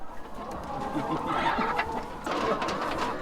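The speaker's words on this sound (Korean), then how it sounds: "사육장 안을 빼곡히 채운 닭을 보니 마음이 뿌듯해집니다." Chickens clucking in a crowded coop at a poultry village near Nairobi, Kenya, a steady mass of overlapping clucks and calls filling the space at moderate level.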